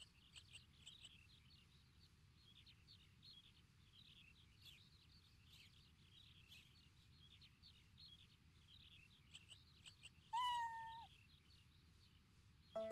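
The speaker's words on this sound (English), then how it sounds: "Oh, a cat." In an animated scene, a cat gives a single clear meow late in the clip, standing out over a faint, steady background with light chirping.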